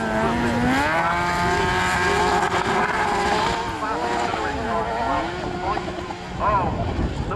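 Autograss race cars scream around the track at Castle Combe, their high-revving engines wailing and shifting pitch as they pass, loud and continuous with crowd and commentary noise mixed in.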